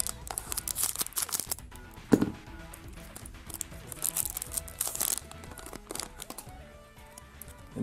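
Foil wrappers of Pokémon card booster packs crinkle and tear as they are opened, close and busy, in a continuous scratchy rustle with a few sharper crackles.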